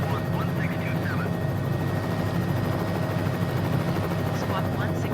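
Bell 407 helicopter in flight around Key West, Florida, its steady rotor and turbine drone loud and continuous throughout, with radio chatter and pilot talk over the cabin noise.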